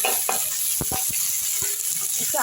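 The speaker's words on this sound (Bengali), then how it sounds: "একটু আলুটাও আমি ভালো করে ভেজে নিচ্ছি" Diced potatoes fry in oil with onion and curry leaves, giving a loud, close hiss of sizzling with quick scraping and clicking strokes as they are stirred.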